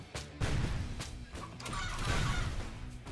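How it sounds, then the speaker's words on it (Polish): A chicken bursts out of a rocket in the Happy Room video game, with fowl-like squawks and honks over a busy, crashing game soundscape of thuds and impacts. "Czy z tej rakiety wyleciał kurczak, czy mi się wydawało?"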